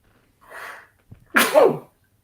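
One loud, close sneeze, brought on by concrete dust, preceded by a quick breathy inhale and a brief pause, then silence.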